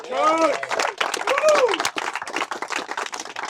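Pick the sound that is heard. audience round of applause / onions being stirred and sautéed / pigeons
audience round of applause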